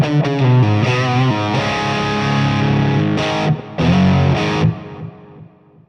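Electric guitar played through a Marshall JCM800 2203 amp with reverb and delay in the effects loop, producing loud distorted chords and sustained notes that ring out and trail into a fading delay tail, no talking.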